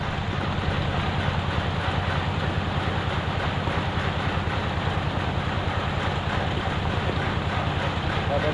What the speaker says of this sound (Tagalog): Ang ingay ng makina.